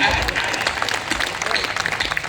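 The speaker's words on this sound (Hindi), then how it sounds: "एक बार मेरे सम्मान में भी तालियां बजाइए" An audience at a Hindi poetry gathering breaks into steady applause, many hands clapping together at close range, lively and continuous throughout.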